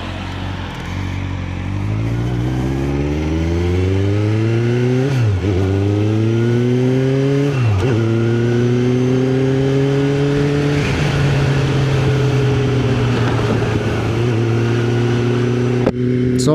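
A motorcycle engine pulls loudly and close up as a new rider accelerates through several gear changes, each shift dropping the pitch before it climbs again, then settles into a steady cruise.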